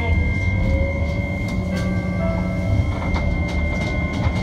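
A Hiroshima streetcar runs and takes a right turn, its steady low rumble and wheel noise continuous throughout with faint high tones from the rails.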